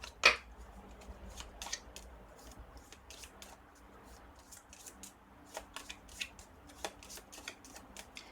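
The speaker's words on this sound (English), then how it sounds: "I am going to get a month of the year card for you." Tarot cards are shuffled by hand in a quiet room: soft, faint riffles and light taps come in short irregular bursts, with no talking.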